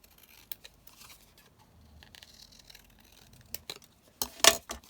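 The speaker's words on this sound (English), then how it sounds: "Let me just quickly cut this." Scissors cut through paper in a quiet room, with a few faint snips spread out and then a louder, quick burst of cutting near the end.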